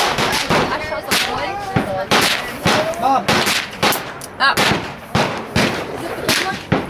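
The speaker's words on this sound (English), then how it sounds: "we're shooting up 357 Magnum" .357 Magnum revolvers fire outdoors at a canyon shooting range, with a string of loud, sharp gunshots at irregular intervals and echoing reports, while people talk and exclaim between shots.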